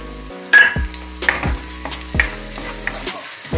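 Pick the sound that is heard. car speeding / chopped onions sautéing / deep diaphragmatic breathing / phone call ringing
chopped onions sautéing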